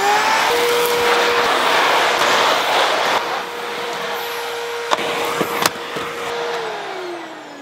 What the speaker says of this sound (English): there's nothing better than just vacuum cleaning the big pieces and the noise it makes